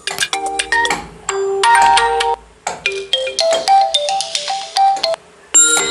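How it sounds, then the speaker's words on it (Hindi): An Oppo A52 phone ringtone plays several short melodic snippets in turn, bright electronic tones with brief pauses between them, loud and close with no talking. "यहाँ से आप डिफरेंट टाइप के रिंगटोन चेंज कर सकते हैं।"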